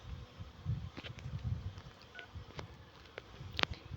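Soft phone dialing tones beep one at a time at irregular intervals while a call is placed. Low background rumble and faint handling noise run underneath, and no one speaks.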